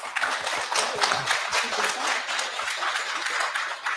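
An audience claps for an award winner at a children's reading-competition gala, applause steady and sustained throughout, with scattered voices underneath.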